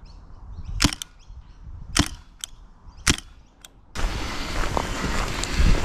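Three sharp pneumatic bursts from an HPA Nerf M79 blaster firing darts beside a fence outdoors, evenly spaced about a second apart, followed by wind noise and rustling.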